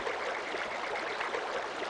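Water flows in a steady, even rush of stream-like hiss in a village in the Dark Cloud video game, continuous and fairly soft throughout, with no other sounds standing out.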